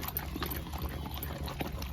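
Water pours into a cooking pot while keerai kadayal, a mashed greens dish, is being made; a steady close trickle and splash fills the moment with no talking.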